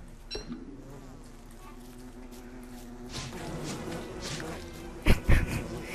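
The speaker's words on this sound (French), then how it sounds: "Là, j'ai attaqué un nid d'abeilles." Bees from an attacked beehive in the game Don't Starve buzz steadily and close, with a few sharp impact sounds near the end.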